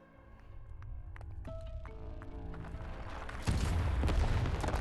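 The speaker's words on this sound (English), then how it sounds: "These bloody cannons!" Artillery cannons fire in the game Arknights: scattered booms sound over sustained musical tones, then a heavy, rumbling blast takes over near the end.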